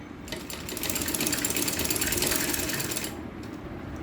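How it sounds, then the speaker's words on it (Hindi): A sewing machine stitching small fabric pieces for a dress, a fast steady mechanical rattle running for about three seconds, close and fairly loud, then slowing to a quieter hum. "ये देखें, इस तरह से इसकी स्टिचिंग करनी है।"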